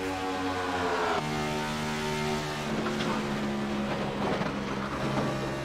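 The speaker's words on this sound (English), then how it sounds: "you can hear just how much that car is bottoming out, G-loading, going through 1 and 2" Stock car engine droning steadily on track in iRacing during a lap at Las Vegas Motor Speedway, pitch dropping sharply after a gear change, with irregular scraping bumps from the car bottoming out under load through turns one and two.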